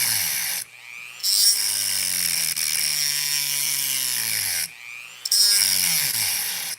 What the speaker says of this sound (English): I'm basically have to cut into the chassis a little bit